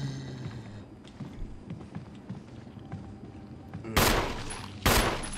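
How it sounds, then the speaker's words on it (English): Gunfire at a zombie in the Resident Evil HD video game: two sharp, loud game gunshots ring out near the end, over a low background of in-game ambience and footsteps. "Let me just shoot the hell out of this zombie here."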